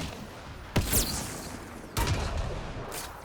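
Two sharp gunshots in the Mass Effect Andromeda video game, the second a headshot on an outlaw, crack out about a second apart over steady game ambience, each with a short ringing tail.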